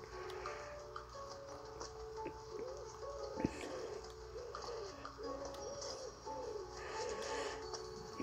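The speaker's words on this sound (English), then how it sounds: "Pigeons would tear us apart." Pigeons coo in the video game Unravel Two, with repeated soft rolling coos over a steady ticking background, mid-distance and moderately loud.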